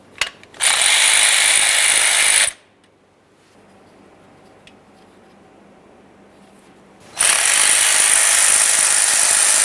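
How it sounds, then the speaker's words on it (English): A ratchet wrench spins off the 10mm mounting nuts of a bracket on an Acura MDX engine: two bursts of rapid, loud clicking close by, separated by a few seconds of near silence. "we're going to remove this bracket by removing our 2 10mm headed mounting nuts"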